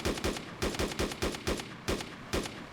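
Gunfire from a gun in the DayZ Mod video game: about nine sharp, loud shots in a steady rhythm, fired one after another with brief gaps and no talking.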